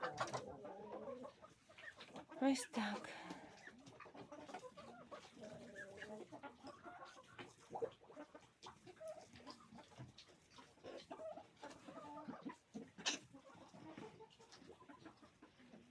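Chickens being fed in a Ukrainian village coop cluck and chatter close by in a busy, irregular stream, with scattered clatter and a brief spoken remark.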